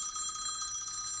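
Telephone ringing in an indoor setting, a steady electronic ring holding for just over a second, fairly quiet and with no talk over it.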